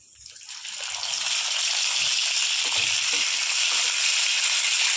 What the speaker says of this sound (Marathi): आता आपण वांगी टाकून घेऊया